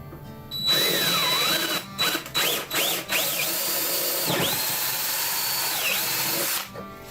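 A power drill whirs steadily at close range drilling four 3/8-inch holes, its pitch dipping and rising as it bites in, with brief pauses between bursts.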